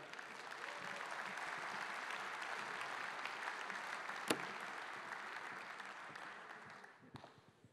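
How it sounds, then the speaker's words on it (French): An audience at an agricultural congress claps steadily and evenly for several seconds, with the applause thinning out near the end; no talking. "Je vous demande d'acclamer Monsieur Éric Orsena"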